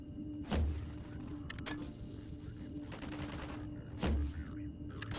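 Turret gunfire in the video game Half-Life 2: two sharp bursts of shots about three and a half seconds apart, with a steady mechanical hum and game noise between them.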